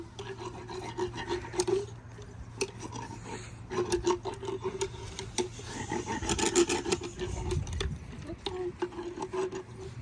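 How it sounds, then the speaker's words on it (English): A rasp files down a horse's teeth during equine dental work, giving repeated rough scraping strokes in steady bursts up close, with a low hum underneath and no talk. "you're filing down their teeth, so they're not going to just stand there perfectly"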